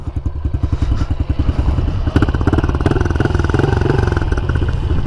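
A 2015 Honda CRF 110 dirt bike idles in neutral, its small engine putting out a steady, fairly loud, even chugging pulse close by with a faint mechanical clatter, and no talk over it.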